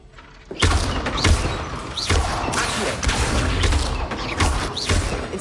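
Levioso levitation spell cast repeatedly in a Hogwarts wizarding video game, a run of loud whooshing magical bursts and thuds in quick succession, each flaring up bright and close.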